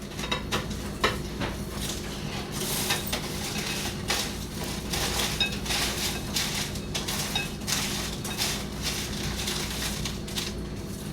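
Crispy oven-baked hash browns are slid from a pan into a bowl, making a continuous close scraping and crunching rattle with scattered light clinks of cookware.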